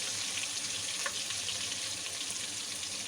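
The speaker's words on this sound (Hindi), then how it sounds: "अब हम अपना अदरक लहसुन डालेंगे।" Ginger and garlic frying in a pan for mutton kofta curry, a steady broadband sizzle that hisses evenly and close throughout with no voices.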